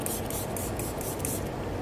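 Spray bottle of 70% ethanol misting onto a laboratory work surface being sterilized for culture work, a series of about six short, close hissing bursts in quick succession.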